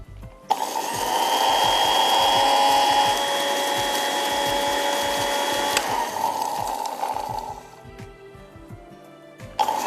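A mixer-grinder whirs steadily as it grinds dry mango powder (amchur) and salt for a quick pickle, the motor drone loud and continuous with low knocking, then easing off near the end before a final burst.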